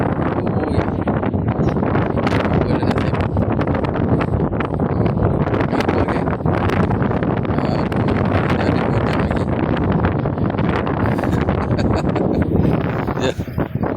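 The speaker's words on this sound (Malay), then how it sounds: "Angin dah datang." Strong wind gusting across an outdoor fishing pond at night, buffeting the microphone in a constant loud, rough roar with rustling, lasting the whole stretch.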